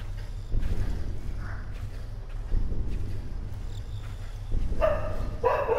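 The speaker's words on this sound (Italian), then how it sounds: "i cani che abbaiano fuori" Dogs barking outdoors at a distance, faint repeated barks over a steady low hum in a Slender: The Arrival game session, with brighter noisy bursts near the end.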